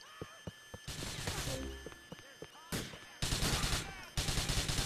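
Gunfire in Grand Theft Auto IV, a mission shootout with sharp single shots early, then dense bursts of rapid automatic fire, loud and close, with a brief voice between volleys.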